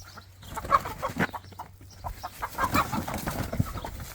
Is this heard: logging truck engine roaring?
no